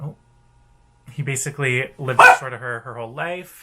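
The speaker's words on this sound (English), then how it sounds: "Sorry about the dog." A dog barks in short repeated bursts in the background while a person talks over it indoors, the barks partly blended with the speaking voice.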